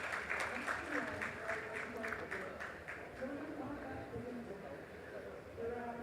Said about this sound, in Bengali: আপনাদের সকলের কাছে ওনার জন্য একবার জোরে করতালি চেয়ে নেব